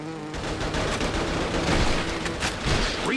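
Rapid continuous gunfire from the video game Attack of the Movies 3D, a dense steady fusillade of shots running throughout with no talk.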